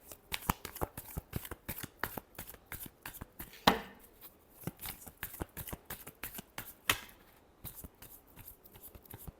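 Tarot cards shuffled by hand: a rapid, close series of crisp riffles and slaps in an uneven rhythm, with short pauses between bursts.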